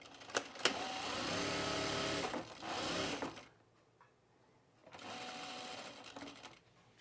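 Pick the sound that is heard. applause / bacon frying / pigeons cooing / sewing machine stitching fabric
sewing machine stitching fabric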